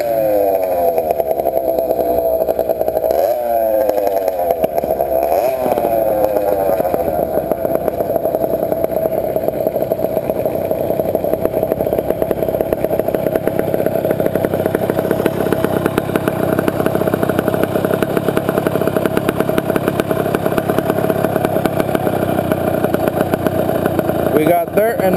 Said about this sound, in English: We got dirt and a monster bike.